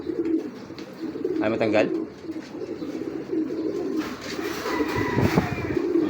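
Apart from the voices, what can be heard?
pigeons cooing in breeder loft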